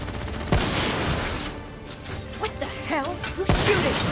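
Gunfire in Call of Duty: Black Ops III, a steady crackle of automatic shots with a couple of sharper bursts, dense and fairly loud, with faint voices underneath.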